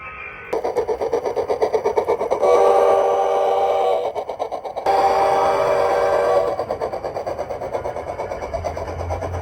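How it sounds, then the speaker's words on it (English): A sawmill sound effect on a model railroad layout plays a sustained whining, buzzing saw tone that surges louder in two stretches over a pulsing mechanical rhythm, fairly loud with no talk. "That's the sound of the saw in the sawmill."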